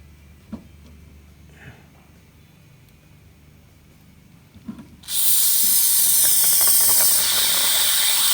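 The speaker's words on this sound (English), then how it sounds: "So now I'll hit it with the carb spray." Quiet background with a few small clicks, then a sudden loud, steady hiss of carburetor cleaner aerosol sprayed onto a 1957 Chevy Bel Air's fuel line, continuing to the end.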